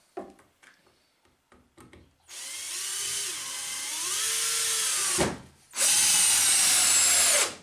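A Parkside PABS 20-Li D4 cordless drill driving screws: a few light clicks, then a loud whining motor run that shifts pitch under load, a brief stop, and another high-speed burst, close up.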